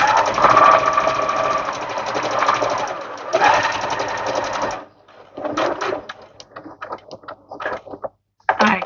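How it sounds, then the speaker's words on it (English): A sewing machine stitches fabric for a bow in fast rattling bursts, pausing briefly before restarting, then breaking into short choppy stitches near the end. "start sewing again and backstitch"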